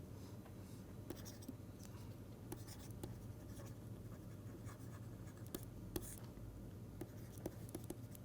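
Pen writing down equation parameters, a steady faint scratching with small taps against a low constant hum, quiet and close.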